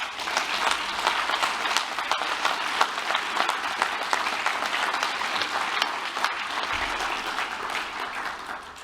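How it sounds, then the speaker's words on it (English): Sustained applause from an audience thanking the staff at a vice-presidential speech event, steady and dense clapping throughout with no voices over it, tapering slightly at the end. "And I think they deserve a round of applause."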